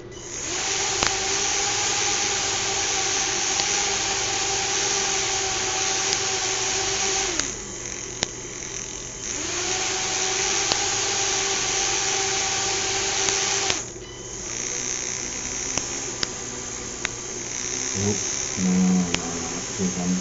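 Small fischertechnik toy electric motor running on a BeagleBoard Classic setup, a steady close whirring hum that stops and restarts a couple of times, with faint clicks and brief handling noises.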